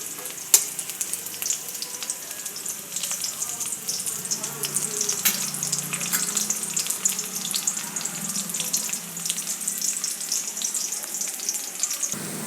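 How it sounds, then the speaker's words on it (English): Steady crackling sizzle of egg chow mein ingredients frying in a pan, with occasional scraping stirs, continuous and close throughout. "It's frying."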